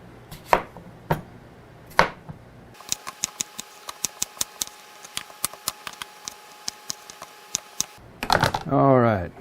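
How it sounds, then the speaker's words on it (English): A knife slices cucumbers for fermenting on a board, giving a long run of quick, evenly spaced chopping taps, loud and close, with a few scattered knocks before and brief speech at the end. "got the cucumbers all sliced up, ready to go in the jar"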